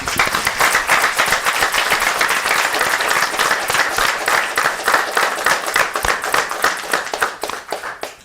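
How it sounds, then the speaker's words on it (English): A loud, dense round of applause at a city council meeting for the 8U and 10U Queen City All-Stars youth teams from Plainfield, many hands clapping close and continuous throughout. "So let's just give them one more round of applause."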